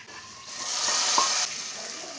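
Hot oil tempering with curry leaves and dried chillies poured into onion sambar lets out a loud, bright sizzle that swells quickly, holds for about a second, then eases into a softer continuing fry.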